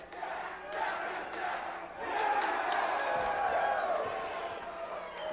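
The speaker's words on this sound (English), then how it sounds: "Fans cheering on Captain Jack." Wrestling arena crowd at a UWF Fury Hour event cheering and shouting steadily for the wrestler Captain Jack, a broad roar that swells after the first couple of seconds, with faint commentary underneath.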